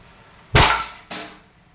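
A Umarex pellet air pistol, a licensed Glock replica, firing two sharp close shots about half a second apart, each a loud crack with a quick decay, in a quiet setting.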